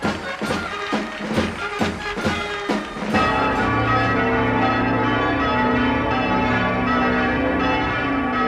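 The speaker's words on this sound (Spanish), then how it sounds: "se anuncia con repique general de campanas en todas las iglesias de la nación" Church bells ring out in a general peal across the nation's churches, with dense overlapping strikes that swell into a sustained, loud, continuous wash of ringing tones.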